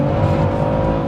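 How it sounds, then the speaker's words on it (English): A BMW M140i with a 730bhp big turbo engine accelerating hard, a loud, steady engine drone heard from inside the car with no talk. "Listen to the engine, bro."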